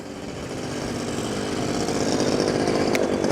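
A motorbike passes close by on a street with a rising, buzzing engine drone that grows louder over a few seconds, heard alone without talking.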